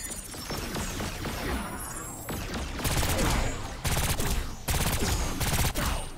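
Heavy gunfire from Braddock's weapon in the video game Agents of Mayhem, dense loud bursts of rapid shots in several volleys with short gaps between them, and game noise underneath.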